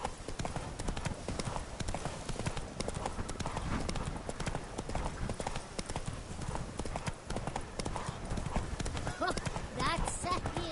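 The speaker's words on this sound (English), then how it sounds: "Run, Roach." A horse gallops steadily in The Witcher 3: Wild Hunt, with fast rhythmic hoofbeats pounding close and loud throughout and a brief whinny near the end.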